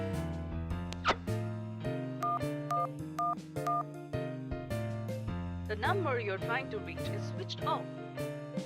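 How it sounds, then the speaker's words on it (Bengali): Telephone keypad tones beep in a quick irregular sequence as a number is dialed, sounding over a bed of dramatic comedy background music. "একবার ফোন করে দেখি"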